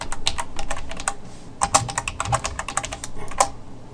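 Terminal command typed on a computer keyboard, quick irregular bursts of crisp close key clicks with brief pauses between runs, heard alone without talk.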